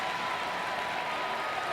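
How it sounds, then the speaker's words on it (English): A dense, steady roar from the crowd at a 1997 Manchester Storm versus Cardiff Devils ice hockey game, filling the whole moment as a continuous wash of cheering and clapping. "and listen to this crowd"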